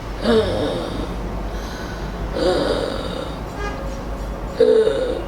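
A person imitates the labored, gasping breathing of a sickle cell chest crisis, three heavy strained inhalations with rasping snore-like catches, loud and close, spaced about two seconds apart.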